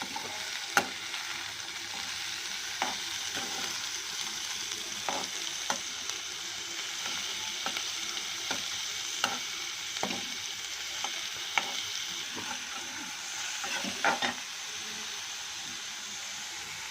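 Ground onion paste frying in oil until golden, making a steady bright sizzle with scattered sharp crackles and pops throughout, close and fairly loud, with no talking.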